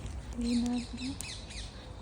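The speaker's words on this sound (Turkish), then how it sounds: "Ve tavus kuşu gördüm." A short nasal squawking call of a peacock sounds once and trails off, against outdoor background noise.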